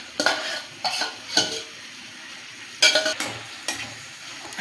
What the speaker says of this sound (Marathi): आता आपण हे ठेचलेले वांगे टाकून घेऊ